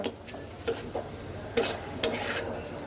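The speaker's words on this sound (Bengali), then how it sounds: "মশলাটাকে তেলের মধ্যে খুব সুন্দর করে ভাজা ভাজা করতে হবে তো চলো এটাকে এখন দু এক মিনিট ভেজে নেই" Spice paste fries in mustard oil for a mustard hilsa fish dish, with a soft, constant sizzle. A utensil scrapes and stirs against the pan several times over it, and no one speaks.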